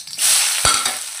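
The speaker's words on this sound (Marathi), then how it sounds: "आता परत ऑइलमध्ये आपले राहिलेले खडे मसाले आपण टाकून घेऊया." Whole spices and a bay leaf dropped into hot oil in a kadhai for mutton Afghani curry, giving a bright, loud sizzle that rises suddenly, with a couple of soft knocks of a spoon against the pan.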